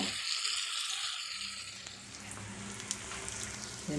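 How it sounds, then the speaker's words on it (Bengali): Dried fish sizzles and crackles steadily in hot oil with ginger, garlic, green chilli and onion, a dense continuous frying hiss with occasional faint stirring clinks, close by and with no talking. "মাছগুলোকে আমি লাল করে ভেজে নেব"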